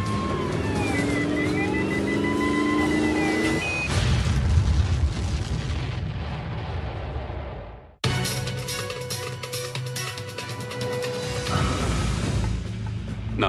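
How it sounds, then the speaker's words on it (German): A vehicle is destroyed by a mine explosion in a radio drama sound effect: an engine drone, then a heavy booming blast that rumbles and fades to silence, followed by loud crackling, burning debris. "Dieser Bereich von Starship City ist vermint. Ihr Fahrzeug wird zerstört werden."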